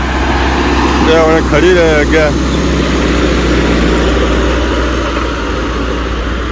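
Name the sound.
tractor engine hauling sand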